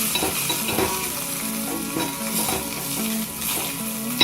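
Tempering for drumstick sambar sizzles in hot oil, a loud, continuous crackling fry with occasional stirring scrapes, heard up close and without voices.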